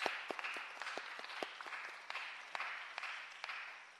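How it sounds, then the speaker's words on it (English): Sparse, fairly quiet applause from a small audience at a Board of Public Works meeting, with scattered distinct claps over a steady room background for about four seconds. "if you can give a round of applause"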